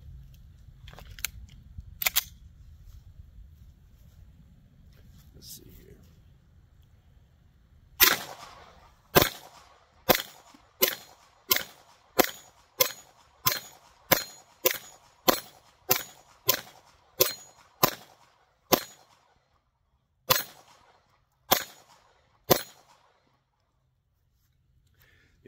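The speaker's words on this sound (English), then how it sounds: "We're going to shoot some rounds and see how well it mitigates recoil and muzzle flip." Shadow Systems MR920 Elite pistol fitted with a Radian Ramjet compensator firing on a range. A couple of early shots come first, then a rapid string of about fifteen sharp, evenly spaced reports, followed by a few slower final shots.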